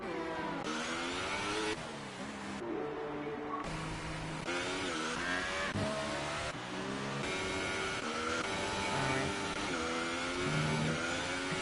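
A racing car engine in a video game of a Singapore race screams through a fast lap, revving high and shifting repeatedly in rising and falling sweeps, loud and continuous with no pauses.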